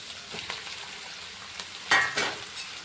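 Chopped spinach hits a hot pan and fries with soft sizzling, swelling into two brief louder bursts of crackle near the end, close and fairly quiet with no voices.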